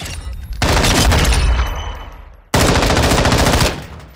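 Two long bursts of fully automatic fire from a SIG MCX Rattler in Call of Duty Modern Warfare II, loud and close, separated by a brief pause, each a rapid unbroken rattle of shots.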